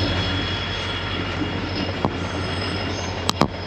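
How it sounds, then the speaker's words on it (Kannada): A train rolls past near a white-stone quarry area in Kalaburgi, a steady, continuous rumble of wheels and cars filling the whole stretch, with a couple of short metallic squeals near the end. "ಓಕೆ ಸೊ ಟ್ರೈನ್ ಹೋಗ್ತಿದೆ"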